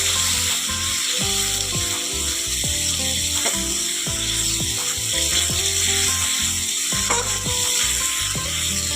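Jackfruit and mutton curry sautéing in a pan, loud and close: a continuous sizzle with repeated clanking and scraping against the pan, mixed with a steady mechanical whir throughout and no voices.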